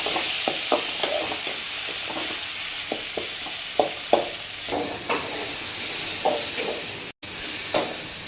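Eggplant and potato stir-frying in oil, giving a steady sizzle with repeated spatula scrapes and stirs at an unhurried pace, with no voices.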